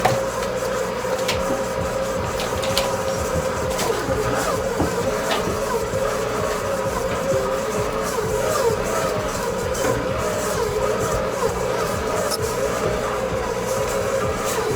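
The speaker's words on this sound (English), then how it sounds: "I'm going to go ahead and cream these together" An electric mixer creams orange and ginger cookie dough with a steady, close motor whir and grinding churn that holds a constant level for the whole stretch, with no voices over it.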